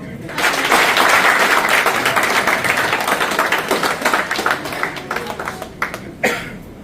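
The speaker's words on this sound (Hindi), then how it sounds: "तालियां।" A room full of participants in a group activity claps together in sustained, dense applause that builds quickly and then thins out into scattered claps before a final burst.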